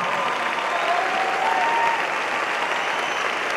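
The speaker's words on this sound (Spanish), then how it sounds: "Un aplauso para Adrián, por favor." Audience applauds a young violinist at a Guatemalan cultural showcase, a steady even wash of clapping from a crowd lasting several seconds without pause.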